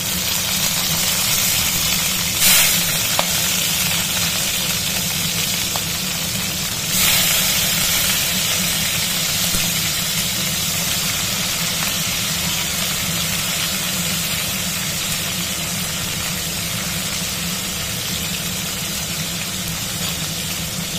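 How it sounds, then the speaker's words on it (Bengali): Crabs coated in salt and turmeric fry in hot oil with a steady, loud, dense sizzle and hiss that continues without a break, with a couple of brief louder spatters. "ক্যাংড়াগুলো নুন হলুদ মাখিয়ে রেখেছি, ভেজে নিই।"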